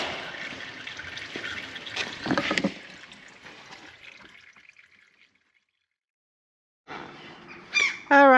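Transmission fluid drains from a Mercedes 722.6 automatic transmission with a close, steady trickling and splashing that fades into silence. Then comes a short burst of higher, bird-like chirps.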